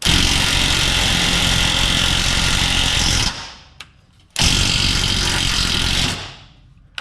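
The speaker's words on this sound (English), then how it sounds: "I'm just going to get an angle grinder in there and just cut that bolt off" Angle grinder cutting off a rusted bolt on an old 80 Series, a loud continuous high whine for about three seconds, a brief stop with a small tick, then a second sustained cut of similar length that winds down.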